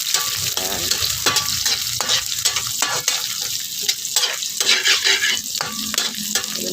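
Pancit bihon rice noodles stir-fried in a pan, with steady close sizzling and frying broken by repeated scraping and tossing strokes of a utensil, no voices.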